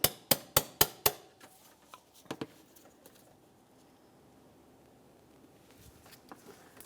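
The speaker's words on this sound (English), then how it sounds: "We'll use a hammer and punch for this." A hammer drives a punch against rivets on a 2000-2006 Chevrolet Tahoe throttle position sensor, five sharp metallic taps in quick succession, then a couple of lighter knocks and quiet handling noise.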